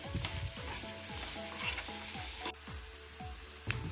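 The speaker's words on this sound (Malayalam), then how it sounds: "ചെമ്മീൻ ചെറുതായിട്ടൊന്ന് റോസ്റ്റ് ചെയ്തെടുക്കുക. അതിൽ ഒനിയൻ ഇട്ട് കൊടുക്കുക." Prawns and chopped onion roast in a hot pan for Kerala-style rice, with a steady sizzle and a run of repeated scraping stir strokes, close and fairly loud with no voices.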